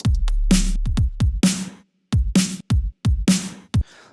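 High-pass filtered snare drum sample hits repeatedly, bright crisp strikes with thin low end, close and alone, in an irregular pattern with short gaps between.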